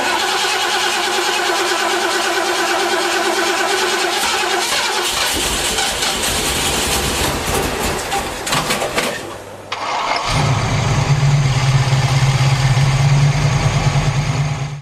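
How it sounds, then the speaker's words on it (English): An old car engine cranks over and over for about ten seconds, then catches and settles into a loud, steady rumbling run. "you turn the key but you keep trying and trying, keep turning that key, pumping the pedal, keep turning, pumping, turning."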